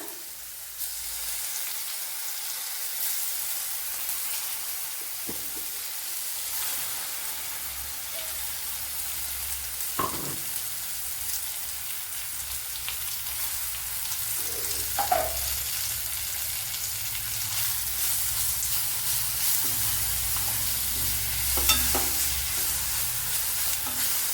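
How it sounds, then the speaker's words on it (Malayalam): Crushed shallots and green chillies fry in a pan with a steady, dense sizzle throughout, broken by a few faint stirring clinks and scrapes; no voices. "ഇനി ഇതിലേക്ക് ക്രഷ് ചെയ്ത് വെച്ച കൊച്ചുള്ളിയും പച്ചമുളകും ഇട്ട് കൊടുക്കാം"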